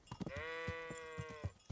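A single sheep in the medieval role-playing game Kingdom Come: Deliverance lets out one clear, wavering bleat close by, surrounded by soft rhythmic footstep thuds from the game.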